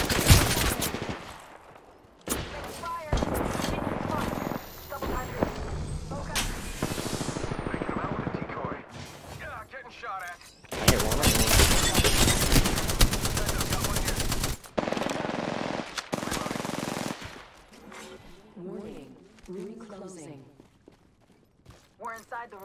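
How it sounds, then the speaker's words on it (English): Automatic weapon fire in the video game Apex Legends, with loud rattling bursts and single shots coming in bunches against a steady backdrop of game sound. "Shots fired, and they're hitting me."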